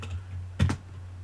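A computer keyboard is tapped twice in quick succession, close and crisp, over a steady low electrical hum with no talking.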